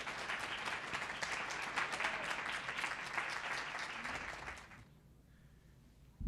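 An audience at a university book launch event applauds to welcome the chancellor to the platform, with steady, dense clapping from a crowd for about four and a half seconds before it fades out.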